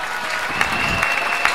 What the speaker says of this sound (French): Applaudissez pour le président de Wissi.